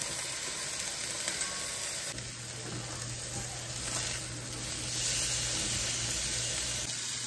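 Chicken breasts, seasoned with salt and pepper, sizzle in avocado oil in a hot pan, a steady broad hiss that swells slightly after they go in and continues unbroken, with no talking.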